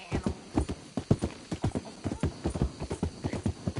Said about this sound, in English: Hope I never have to be on that horse again, dang animal.